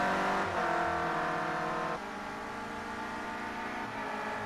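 Renault Clio Cup race cars in a sim racing game at Oschersleben drone with steady engine notes that shift pitch as the cars run near each other through turn 1, with no talk heard.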